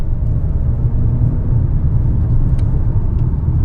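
A 2022 Maserati Ghibli driving, heard as a loud, steady, low engine rumble from inside the cabin.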